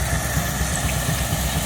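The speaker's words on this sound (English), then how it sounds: "That beautiful steam engine is all pressurized," A pressurized steam engine at a restored-machinery show runs a belt drive to a classic thresher, giving a steady, loud mechanical rumble with a low throbbing beat and no break or talk.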